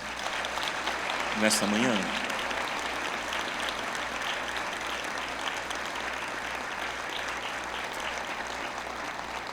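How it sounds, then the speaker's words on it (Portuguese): Congregation clapping in a church after the sermon reading, a steady broad patter of applause filling the room for several seconds, with a preacher's voice speaking briefly near the start over it. "Você pode aplaudir a palavra do Senhor"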